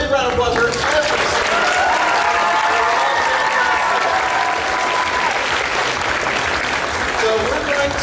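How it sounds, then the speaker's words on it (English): A large convention crowd at a spring anime con costume contest gives sustained loud applause for the contestants, dense clapping throughout with some cheering mixed in. "One more big round of applause for every"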